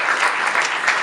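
Brief burst of applause from an audience at an architecture festival event in Lagos, steady and dense clapping heard alone at moderate level.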